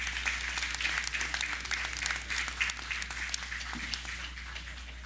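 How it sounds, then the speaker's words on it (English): Crowd at a National Heroes Day ceremony in the Cayman Islands gives a round of applause, moderately dense clapping over a steady low hum, fading slightly toward the end. "Another round of applause for the Honorable Desmond Watler."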